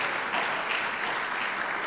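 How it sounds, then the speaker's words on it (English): An audience breaks into steady, dense applause, a continuous wash of many hands clapping at moderate loudness for a couple of seconds. "Give him a round of applause."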